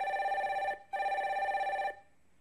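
A telephone rings with an incoming call on a phone-in show: two clear electronic ring bursts separated by a short gap, fairly close and alone, then quiet.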